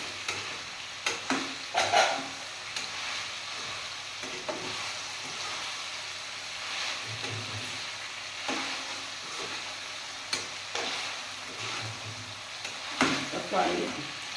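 Green chillies and Kashmiri chillies fry in a pan with a soft, steady sizzle, broken by scattered scrapes and clinks of stirring at a moderate, close distance.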